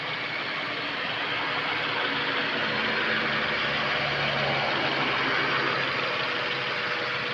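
A Mazda 3 1.6 automatic engine idles steadily and loudly nearby, a constant dense mechanical hum with no pauses and no voices.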